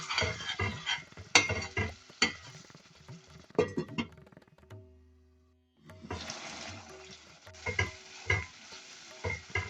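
Sheephead munda curry cooking in a pot, with stirring scrapes and bubbling sizzle in irregular bursts, a short quiet gap with a low hum midway, then the clattering, sizzling activity resumes close by.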